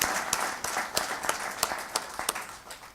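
Faint, scattered clapping from a small audience at a keynote event, with a handful of separate hand claps spaced irregularly over a few seconds.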